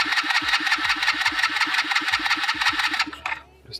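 A 110cc pit bike engine is cranked repeatedly, giving a fast, even chugging rhythm that fails to catch and then cuts off, close and loud.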